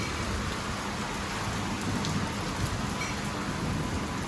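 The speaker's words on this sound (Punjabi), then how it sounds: "ਬੱਦਲ ਗੱਜੀ ਜਾਂਦਾ ਮੀਂਹ ਪੂਰੇ ਜ਼ੋਰਾਂ ਤੇ ਚੱਲ ਪਿਆ" Steady, heavy rain pours down continuously during a thunderstorm with lightning, with a low rumble of distant thunder underneath.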